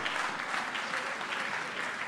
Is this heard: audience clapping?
yes